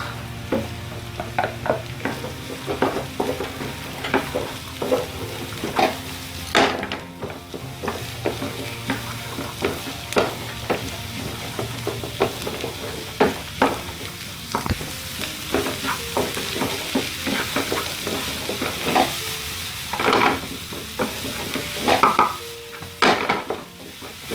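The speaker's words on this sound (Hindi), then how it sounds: "ऑनियन गार्लिक सौते होने के साथ साथ आप डालेंगे कैरेट्स, उसके साथ डालेंगे आप बीन्स" Onion, garlic, carrots and beans stir-fried for vegetable fried rice hiss and sizzle steadily in the pan, with frequent scraping and clinking of a spatula stirring throughout, close and fairly loud.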